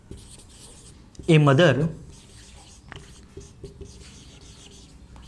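Chalk or marker writing an example on a board in a classroom, faint scratchy strokes near and under a man's speech, with light taps scattered through.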